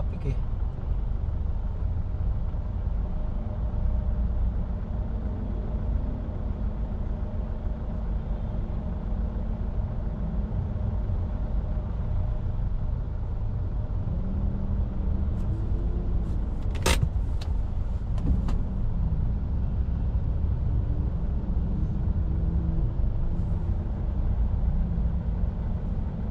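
City traffic heard from inside a manual 2025 Mitsubishi Montero Sport: a steady low engine and road rumble runs throughout, with a brief sharp click and rattle near the middle.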